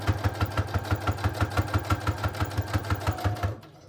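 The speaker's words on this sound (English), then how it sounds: "And then we're also gonna get the fabric closure sewn into place" A sewing machine stitches a fabric closure onto a wallpaper junk journal with a fast, even mechanical rhythm of close, steady pulses that stops abruptly near the end.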